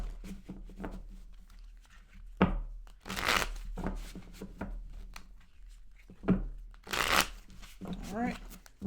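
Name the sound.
shuffling tarot cards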